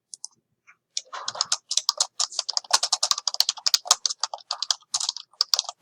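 Typing on a computer keyboard, with fast, irregular bursts of crisp key clicks close up after a short quiet start, continuing with only brief pauses.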